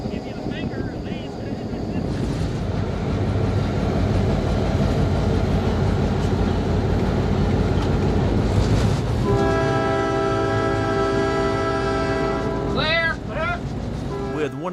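A vintage Katy Railroad locomotive rolls along with a heavy rumbling engine and clattering cars, then a loud, sustained multi-tone horn blast sounds over the running train; voices talk nearby.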